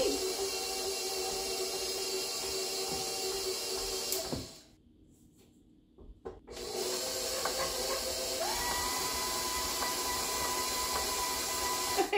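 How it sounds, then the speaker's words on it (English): A stand mixer with a flat paddle creaming butter: a steady, loud motor whir with a constant hum. It stops for about two seconds midway and then starts up again, with no talking. "I have my flat paddle on here, and I'm just going to cream this a little bit"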